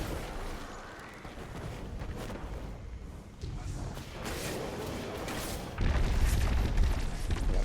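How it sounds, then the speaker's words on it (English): Crystals blown up in the video game Destiny 2, a series of heavy booming blasts over rumbling game noise, with a louder, deeper explosion near the end. "Now we gotta blow up these crystals."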